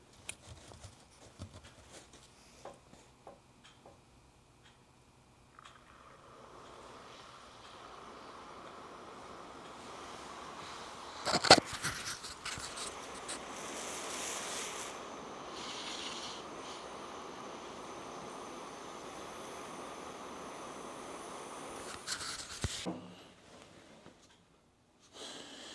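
An electric engine block heater, plugged in and submerged in a Tim Hortons cup of water, gives off a steady, quiet hissing sizzle for about fifteen seconds. Close handling clunks and knocks mark the beginning and end.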